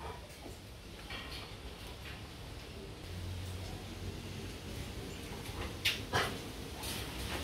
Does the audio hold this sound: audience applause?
no